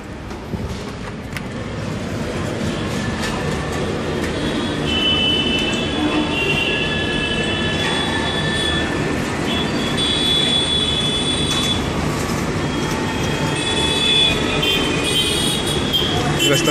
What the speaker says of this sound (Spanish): La estación de trenes de Nueva Delhi.